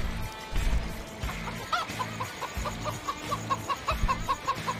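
A chicken in Farming Simulator 17 gives a series of short clucks over a looping background soundtrack, fairly close and moderately loud.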